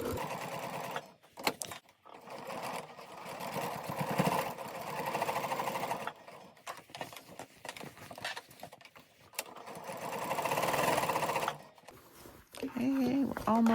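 A sewing machine stitches fabric for a drawstring bag in bursts of rapid mechanical whirring, stopping and starting several times at moderate loudness, with a person talking quietly in the pauses.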